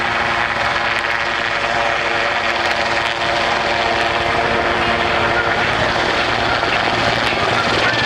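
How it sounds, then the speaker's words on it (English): Four Iroquois helicopters, a Sea Sprite and a Sioux hover together at the RNZAF 75th anniversary airshow at Ohakea, producing a loud, continuous roar of rotors and engines with steady thumping blades. "4 Iroquois, a Sea Sprite and a Sioux, all in the same area, coming in for a mass hover"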